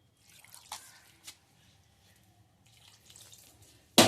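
Faint wet dripping and trickling as water is poured little by little into murukku dough, with a few soft splashes, quiet and close, ending in a sudden loud burst of noise.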